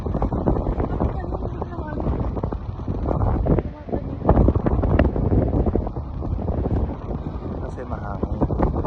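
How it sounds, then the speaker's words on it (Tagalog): Wind buffeting the microphone during a walk across the Nabenngan hanging bridge in Sadanga, Mountain Province, loud gusty roar throughout, with people talking over it. "kasi mahangin"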